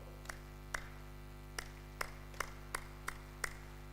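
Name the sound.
audience clapping in a pattern of two then six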